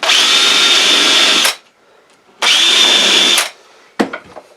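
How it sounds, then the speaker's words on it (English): Power drill boring holes through a cyclone dust extractor lid, two loud sustained whirring bursts of about a second and a half each, then a sharp clack and faint rattling. "Drill our holes."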